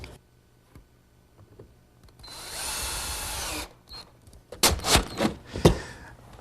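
A power drill drives screws into the wooden frame of a library ladder in a workshop, one loud whirring burst lasting about a second, then clunks and handling knocks of the wood nearby.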